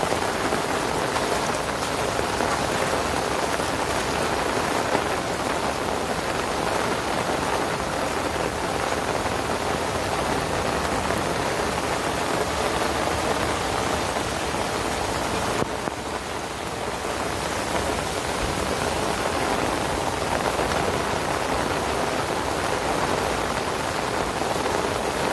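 Steady rain pours continuously, a dense, even hiss of drops hitting surfaces nearby, with no voices.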